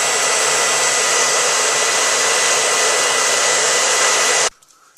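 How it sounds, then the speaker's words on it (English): A hair dryer blows hot air onto an iPhone, a loud steady whooshing roar held for several seconds before it switches off abruptly. "Gotta get the hair dryer, and you just gotta start drying it."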